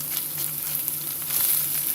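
Diced onions and garlic sizzling in a pan for pasta alla norcia, a bright, continuous frying hiss with soft crackle, close and steady throughout.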